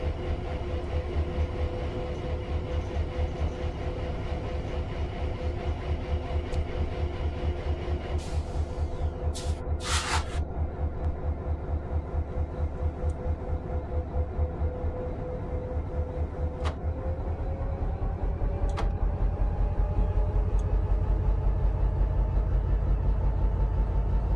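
A diesel train engine from the Train Sim World 5 video game on the Metrolink San Bernardino Line runs with a steady low rumble and hum, holding level throughout, with a few brief clicks and hisses near the middle.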